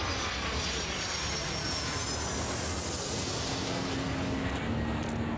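Jet aircraft engines roar in an airport traffic control video game, a loud, steady rushing drone that fills the whole stretch with no pauses.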